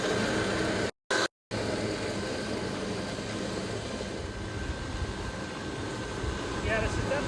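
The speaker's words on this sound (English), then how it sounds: "So I'm going to go ahead and scarify again." Allett scarifier working a Bermuda lawn being prepped for ryegrass overseeding gives a continuous motorized drone and whirr, steady and fairly close, briefly cut off twice near the start.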